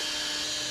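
A power drill boring holes through a metal part for a prewar Austin/Crosley single-seater race car, giving a steady, continuous high-pitched whine held close up and alone for under a second.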